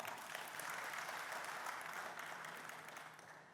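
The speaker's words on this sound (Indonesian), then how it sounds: "Tepuk tangan untuk beliau." An audience at the Bali governor's working visit to Tabanan regency breaks into broad, steady applause for the vice governor, a continuous wash of many hands clapping that fades slightly near the end.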